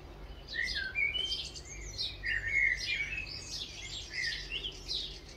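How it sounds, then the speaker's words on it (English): A blackbird sings outdoors near rooftops and chimneys, its clear fluting phrases and chirps repeating steadily at moderate distance over a low background hum. "There's a blackbird through there."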